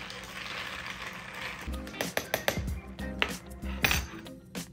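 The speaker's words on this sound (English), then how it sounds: "you want to just give it a little stir" Stirring ginger beer and other ingredients together in a Moscow Mule cup, giving a run of close metallic clinks and scrapes against the cup's sides, with a brief steady hiss before the stirring begins.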